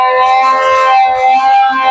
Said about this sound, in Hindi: बम विस्फोट हो चुका है और सायरन बज चुका है।